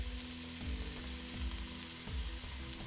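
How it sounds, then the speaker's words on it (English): Chopped onions and black mustard seeds fry in hot oil in a pan, giving a steady close sizzle with small crackles and occasional soft stirring knocks throughout, no voices. "Get the onions that you've chopped previously and add them to the pan."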